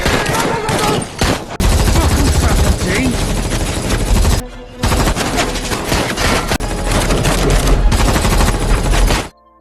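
A loud, sustained exchange of gunfire in a film, rapid bursts of automatic shots layered together, with a short pause midway before the firing resumes and stops abruptly.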